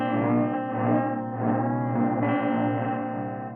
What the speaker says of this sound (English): now you can kind of hear this ramping effect in the background.